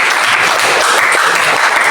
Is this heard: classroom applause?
yes